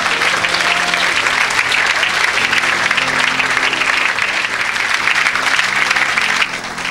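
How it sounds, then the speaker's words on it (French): A church congregation applauds loudly and continuously, a dense roar of clapping with cheering that holds steady before easing slightly at the end. "Acclame très fort le Seigneur."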